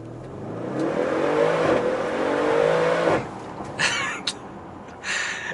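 Audi RS6 Performance with a 605-horsepower 4.0-litre V8, exhaust flaps open in dynamic mode, pulls away in a loud, rising engine roar for about three seconds before the note drops off, followed by a few brief fainter sounds.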